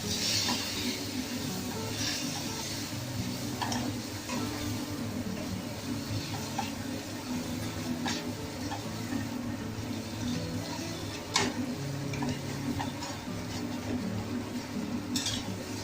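Fried vegetables get stirred into hot oil in a kadhai for kadhai mushroom, with a low continuous frying rumble broken by scattered light scrapes and clinks of the spoon against the pan, no voices.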